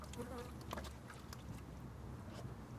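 Honeybees buzz in a dense, steady drone from a hive box, the sound filling the whole stretch at low level with a few brief sharper buzzes close by.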